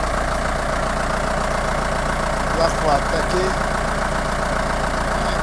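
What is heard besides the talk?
tractor engine idling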